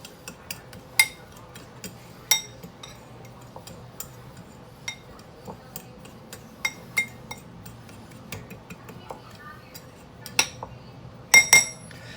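A spoon clinks and taps against a bowl while flour, seasoned salt, black pepper, cayenne, paprika and Creole seasoning are stirred together. The sharp clinks come irregularly over a quiet background, and a burst of quick taps lands near the end.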